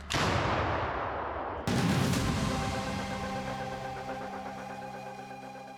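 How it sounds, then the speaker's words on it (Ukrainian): A heavy artillery gun fires with a deep, booming blast, followed by a second report and a long rumbling echo that slowly fades. "Постріл!"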